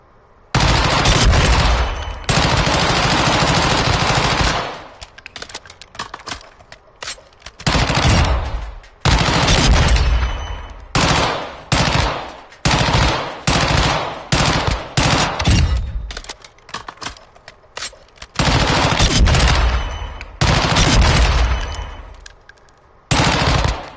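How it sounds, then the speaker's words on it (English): A high-rate tracer pistol fired in Modern Warfare II, loud close bursts of rapid shots repeated over and over with short gaps between strings, no talk. "I'm gonna go over this pistol after I shoot this"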